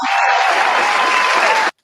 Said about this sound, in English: Thank you for the hand claps, Johnny.